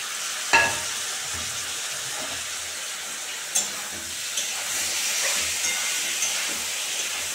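Chicken pieces sizzle as they fry in a pan for restaurant-style chicken chow mein, a steady hiss with a few sharp clatters of stirring and scraping, close and fairly quiet throughout.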